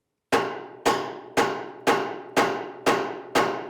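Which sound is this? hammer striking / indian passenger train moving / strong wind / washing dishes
hammer striking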